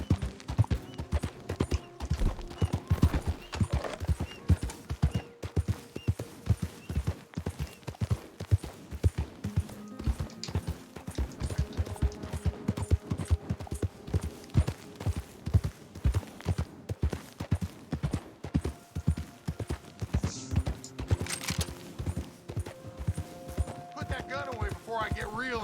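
Rapid rhythmic hoofbeats clip-clop steadily throughout in the video game Red Dead Online, with a voice speaking over them and occasional game-like tones.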